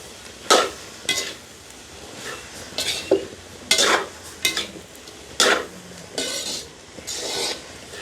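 Puttu being stirred and mixed in a pan for kottu puttu, with repeated scraping and clinking strokes of a utensil against metal in irregular bursts, fairly close and with no voices.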